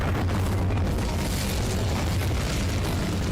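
An Incendio fire spell cast in the Hogwarts Legacy video game, a dense roaring burst of flame that holds steady and loud for the whole few seconds, with no voices.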